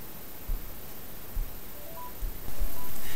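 Touch-tone dialing beeps from an Android phone placing a voice-action call, a few short tones over steady background hiss, fairly quiet and close.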